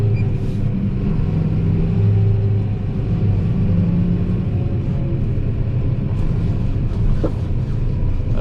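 A Kubota M7173 tractor engine running steadily with automated gear shifting engaged, a continuous low, heavy rumble heard close and loud throughout, with no clear breaks.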